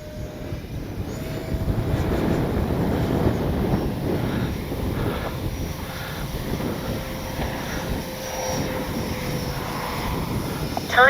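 An Arrows 50mm EDF T-33 RC jet flies after a hand launch, its ducted fan a steady whine over a broad rushing roar. The sound stays fairly loud and even throughout, with faint background noise.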